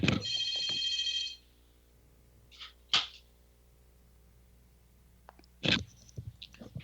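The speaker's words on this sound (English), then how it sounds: "What's that phone doing?" A telephone bell rings in a short loud burst, then falls quiet apart from a few scattered clicks and handling noises, with one more brief clatter near the end.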